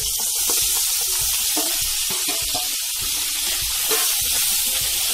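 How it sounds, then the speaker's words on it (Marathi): Lemon pieces for a pickle sauté with crackled mustard seeds in hot oil, a dense continuous sizzle with soft popping and scraping stirs throughout. "5 ते 7 सेकंद फोडी परतून घ्यायची आहे"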